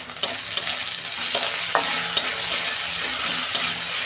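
Onion, green chilies, garlic and ginger stir-frying in a pan, a dense, even sizzle close by with a few sharp spatula taps against the metal.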